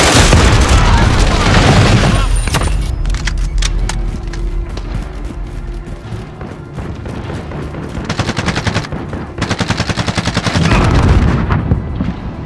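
A grenade explosion and rapid gunfire in a Call of Duty game, with heavy booming blasts at the start and end and dense bursts of shots between them, all loud and close.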